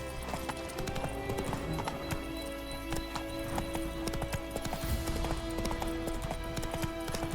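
Horse hooves gallop in The Witcher 3 video game, a dense, continuous clip-clop rhythm heard close, with game ambience underneath.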